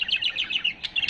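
English budgerigars chirp in a quick run of bright, repeated tweets, close and clear, several overlapping calls in under two seconds with no voices.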